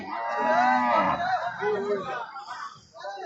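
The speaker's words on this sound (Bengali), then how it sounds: "এখানে সাদা কালারের একটি গরু দেখতে পাচ্ছি" A white cow moos at a busy cattle market, one long, loud low call that dominates the first half and then fades. Crowd voices and talk continue underneath throughout.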